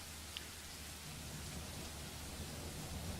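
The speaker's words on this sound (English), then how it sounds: "I just don't expect it to start raining." Rain beginning to fall in the video game The Letter, a soft, even hiss of steady rainfall with no voices, quiet and continuous throughout.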